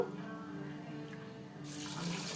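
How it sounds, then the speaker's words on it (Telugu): Coconut milk pours from a container onto rice in a cooking pot, a quiet, steady liquid trickle that swells into a louder rushing pour near the end. "డబ్బా బియ్యంకి డబ్బా పాలు చొప్పున పోస్తున్నాను"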